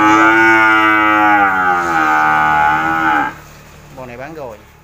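A cow on a Vietnamese cattle farm in Tra Vinh gives one long, loud, close moo lasting over three seconds, followed by a shorter, quieter bellow.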